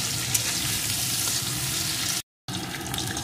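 Cut potato pieces frying in oil with chopped onion in a pan, a dense, continuous sizzle broken by a brief silent gap, with no voices.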